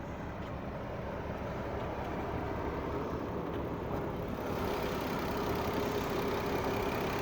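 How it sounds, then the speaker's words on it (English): BMW M440i with a 3-liter inline-six engine running at a steady idle, a constant low rumble and hum that holds even throughout with no revving. "You can see, you get your 3-liter inline 6. Everything running good and fantastic."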